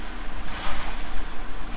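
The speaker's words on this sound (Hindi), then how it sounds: "पानी डाल रहे हैं गाड़ी में, इंजन पे भी डाले हैं, ब्रेक शू पे भी डाले हैं।" Water splashes and hisses onto an overheated car engine and brake shoes on a mountain road drive near Jalori Pass, a steady close rushing wash with gusty noise and no talking.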